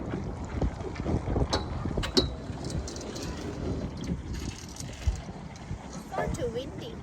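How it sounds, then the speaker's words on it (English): Strong wind buffeting the microphone on a punt gliding along the river in Cambridge, gusty rumbling bursts over faint water and pole sounds, with people talking at times. "Too windy."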